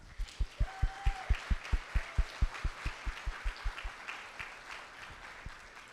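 Audience at a fundraiser breakfast clapping in unison, a run of about twenty rhythmic claps that slowly trail off amid quieter scattered applause.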